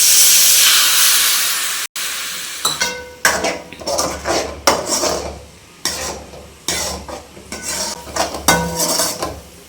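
Masala of tomato and onion in a pan for dry fish thokku hisses and sizzles right after a tumbler of water goes in, then settles into rapid bursts of bubbling and clinking of a spoon against the pan, close and loud with no talk.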